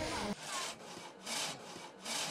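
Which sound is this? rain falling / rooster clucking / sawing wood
sawing wood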